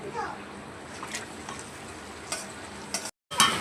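Mutton sizzles in a pan with tomatoes and Kashmiri chili, a soft steady frying hiss with a few stirring scrapes, cutting out briefly near the end.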